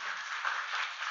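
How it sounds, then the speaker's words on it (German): Brief, soft burst of audience applause welcoming a speaker onto the stage at a games conference session, an even wash of clapping heard from a distance. "hätte ich gern einen donnernden Applaus für dich."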